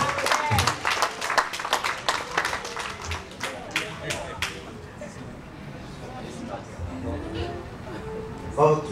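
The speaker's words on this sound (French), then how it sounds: "on nous applaudit le frère Desjardins à la gloire de Dieu" A church congregation applauding, with sharp claps strongest at first and then fading into a lower crowd murmur and scattered voices.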